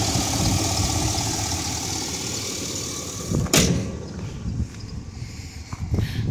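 A 2005 Chevy Silverado 2500 4x4 with a 6.0 CNG engine idles close by in a steady, throbbing rumble, then a sharp knock midway and a quieter idle with a few scattered clunks.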